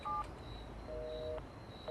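Telephone being dialed, two distinct DTMF tone presses of different pitch, close and clear over a low background hum, with no talk.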